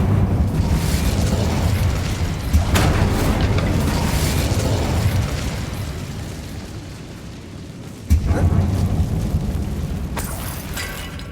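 An Incendio fire spell erupts in a dark mine in Hogwarts Legacy, a long roaring blast that slowly fades, followed by a second sharp burst of flame near the end.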